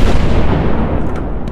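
An enemy artillery shell explodes in a war video game with a loud, close, rumbling boom that fills the whole short moment and barely fades.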